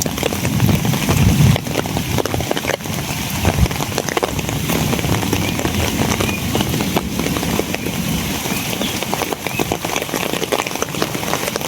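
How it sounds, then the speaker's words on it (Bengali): Steady rain falls outdoors, a dense broadband hiss that stays loud throughout, with scattered patter and a brief low rumble near the start. "এই বৃষ্টি"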